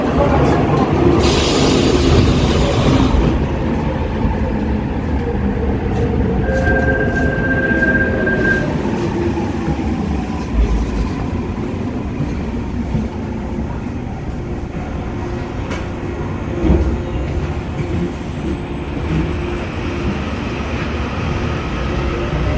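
A Seoul underground subway train runs steadily, with a continuous loud rumble of wheels and car noise, a brief high tone midway, and occasional clicks and rattles throughout.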